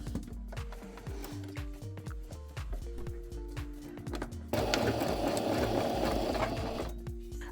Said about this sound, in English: I sew, I leave a hole.